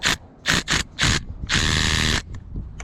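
Ratchet wrench tightening a power steering line fitting on an Acura TL during a pump replacement: a few short clicking bursts, then a longer steady run of rapid clicks, close and loud with no talk.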